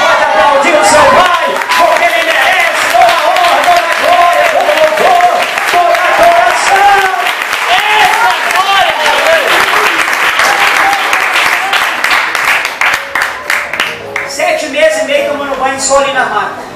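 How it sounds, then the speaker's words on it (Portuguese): A church congregation applauds steadily during a worship service, with loud, dense clapping and crowd voices that fill the whole stretch, strong from start to finish and thinning slightly near the end as a voice and music rise. "Você pode aplaudir o seu Pai"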